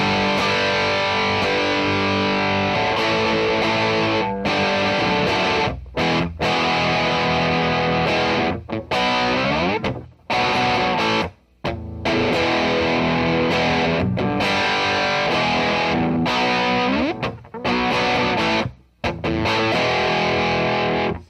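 Heavily distorted electric guitar through a Caline CP-27 Sandstorm distortion pedal, drive at 25%, plays loud, gritty chords with sustained notes and short breaks between phrases, close up and alone.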